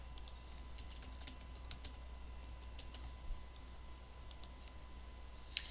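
Rapid, faint clicking of computer keys while a username and password are typed, in irregular bursts over a low steady hum.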